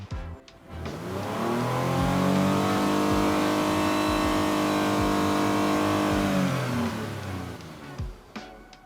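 A 2020 Lexus RX engine revved to about 6,000 RPM, heard from behind the car: a rising roar that holds steady at high revs for several seconds, then falls back to idle, loud and close.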